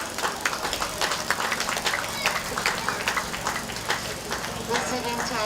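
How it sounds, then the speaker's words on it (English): An audience at a county fair livestock show claps for the exhibitors, scattered hand claps rising and falling over a busy background, with a voice talking intermittently through it. "Let's give these exhibitors a nice round of applause."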